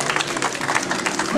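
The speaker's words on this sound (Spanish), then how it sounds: "Un aplauso, por favor" An outdoor crowd at a Christmas tree lighting breaks into dense, steady applause, a thick wash of many hands clapping at once, with a voice speaking over it toward the end.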